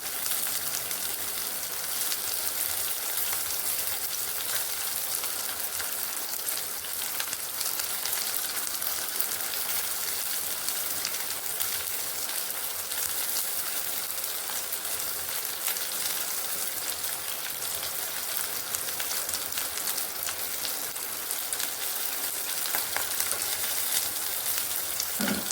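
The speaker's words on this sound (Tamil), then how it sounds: "நல்லா வதங்கணும் வெங்காயம்." Onions fry in a pan with a steady, hissing sizzle that holds evenly for a long stretch, close and moderately loud, with no speech over it.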